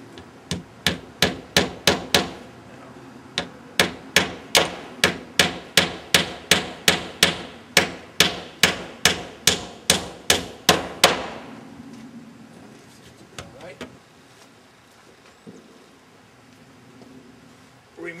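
Hammer driving nails into wood on a roof, a long run of sharp, evenly spaced blows, about two or three per second, loud and close, then fading into quieter handling noises.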